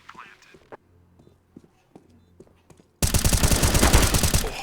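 Gunfire in a tactical shooter video game rips through walls as a dense, loud automatic burst that takes over the second half. Before it come quiet footsteps and soft clicks, with players whispering under them.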